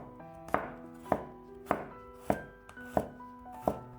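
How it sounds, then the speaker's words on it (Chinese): A knife chops peeled garlic cloves into thin slices on a cutting board. About seven crisp, evenly spaced chops land roughly every half second, close up and alone, with no talking. "几瓣去皮的大蒜，先给它切成薄片，"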